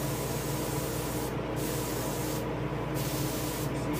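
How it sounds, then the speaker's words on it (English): An airbrush sprays paint onto a largemouth bass taxidermy mount, giving a steady, continuous hiss with a few brief breaks where the spray stops, heard close and alone. "So what we're going to do is adjust your airbrush."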